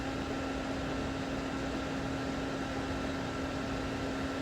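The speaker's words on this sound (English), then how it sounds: "it's just a tiny little compressor, so it can't amount to too much" A tiny single-phase 115-volt compressor runs inside a Frigidaire ice maker, making a steady, even hum with a constant electrical drone and a broad, noisy whir that holds unchanged throughout.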